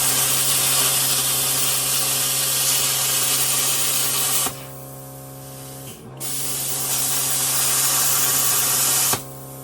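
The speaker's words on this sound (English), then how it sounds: "I can clean them all up with the rotary burr" A rotary burr grinds and cleans metal parts for a Sunbeam Alpine Tiger, giving a loud, continuous high-pitched whir that stops briefly twice before resuming, close by and with no talking.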